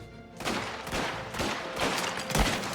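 Rifle fire in the video game Mafia: The Old Country, a steady series of loud, close shots about every half second, each with a booming tail, over continuous game noise.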